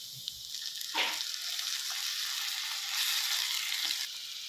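Ground tomato paste for paneer butter masala frying in a pan, a steady close sizzle with a few stirring scrapes and soft bubbling, no voices.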